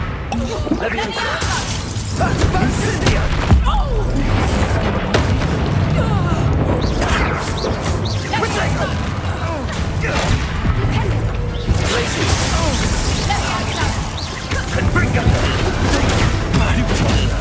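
Combat in the Hogwarts Legacy video game, with Confringo explosion spells bursting amid dense crashes, booms and shattering impacts over music and character voices talking throughout.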